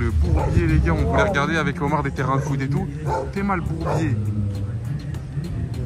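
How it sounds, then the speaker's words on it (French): Stray dogs bark and yelp repeatedly amid a noisy outdoor scene, with people talking over them throughout. "Mais pourquoi il y a des chiens errants?"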